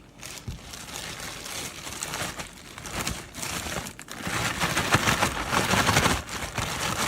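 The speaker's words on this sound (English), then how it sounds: "For more even coating, do the lobster pieces in small batches in a plastic bag." Steady crinkling and rustling of a plastic bag being shaken to coat lobster pieces, continuous and close, with soft bumps of pieces tumbling inside.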